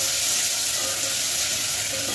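Rice sizzles and crackles as it roasts in ghee in a pan, a loud, dense, continuous frying hiss with faint stirring and no talk.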